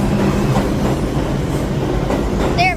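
A New York City 5 subway train, an R142 model, rumbles past up close with rhythmic clacking of wheels, ending in a brief high squeal.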